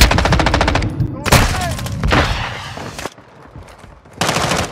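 Rapid machine gun bursts from the Modern Warfare 2 video game, loud and repeated in several volleys with brief pauses between them, and a voice shouting over part of the gunfire.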